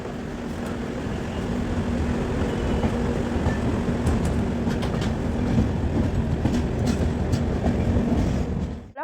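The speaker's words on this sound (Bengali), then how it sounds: "আমাদের ট্রেন মোটামুটি অন টাইমে চলছে।" The Howrah Mail passenger train runs on rails between Chennai and Kolkata, heard from on board as a loud, steady rumble with clickety-clack wheel beats and no voices, fading abruptly at the end.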